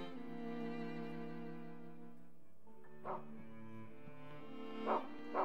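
A dog whimpers and yips in the horror video game Rule of Rose, thin high cries over a sustained eerie musical drone, fairly quiet and close.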